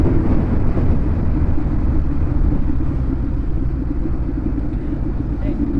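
Steady road traffic rumble heard from a Kawasaki Z900 motorcycle riding back into Hyderabad, a continuous loud engine and wind drone with vehicle noise under a talking voice.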